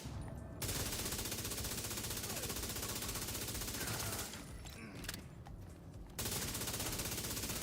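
Heavy gunfire from sniper rifles in The Division 2, a loud, dense barrage of shots running almost continuously, with brief lulls before the firing resumes.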